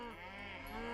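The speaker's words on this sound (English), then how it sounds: "We can see Arngrim here counting up the cows that we need" Cattle lowing in the Age of Mythology video game, a sustained moo carrying through the whole second at a fairly quiet level with no talking over it.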